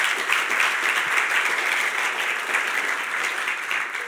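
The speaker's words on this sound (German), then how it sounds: "Geben wir all denen, die mit dem Podcast schauen, einen recht herzlichen Applaus." An audience in a church applauding during a sermon, steady dense clapping throughout, loud and close, with no pauses.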